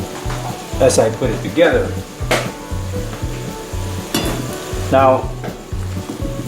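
Meat and onions fry in a pan for TexMex enchiladas, a steady sizzle with occasional stirring clatter running beneath a person talking throughout.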